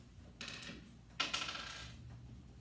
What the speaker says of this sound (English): Roll your dice.